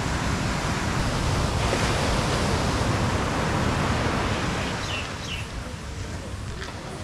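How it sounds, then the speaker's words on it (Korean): Strong surf breaking on a beach on Koh Samui, a loud continuous roar of crashing waves with wind buffeting the microphone, easing slightly toward the end. "와, 파도 엄청 세네."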